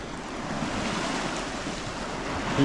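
Strong ocean waves wash continuously against the shore of a small island, with a steady roar of surf and wind buffeting the microphone. No voices are heard.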